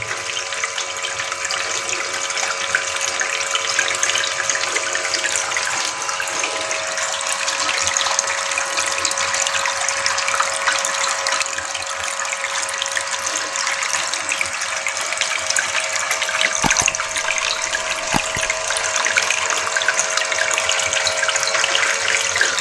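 Water flows continuously through a homemade fountain, likely pump-driven, as a steady loud rushing splash that stays even throughout, alone without any talking.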